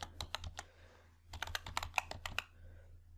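Quick bursts of typing on a computer keyboard while entering an address into a spreadsheet, with two clusters of close, crisp key taps separated by a short pause.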